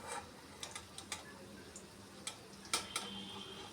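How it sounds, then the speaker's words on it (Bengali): Raw plantain pieces fry in a pan for a curd plantain dish, a faint, steady sizzle broken by scattered sharp crackles and pops over a few seconds. "এইভাবে লাল লাল করে সবগুলো কাঁচা কলার পিস আমি ভেজে নিচ্ছি।"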